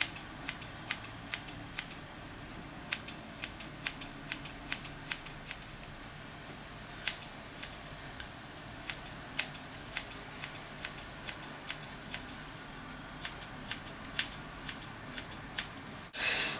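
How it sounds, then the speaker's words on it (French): Small thinning scissors snip through the tip of a hair fringe in a long series of crisp, close, evenly spaced clicks against a quiet room, with no speech. "je vais reprendre une dernière fois mes petits ciseaux effileurs et je vais effiler la pointe"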